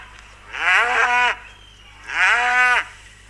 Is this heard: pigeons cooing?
no